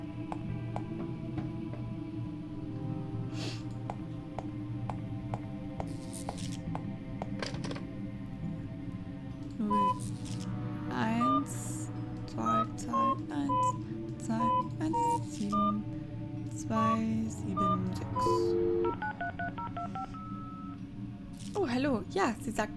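Telephone dialing in the game Fran Bow, a sequence of short tonal beeps and button tones scattered over a steady low hum, with a voice talking in between.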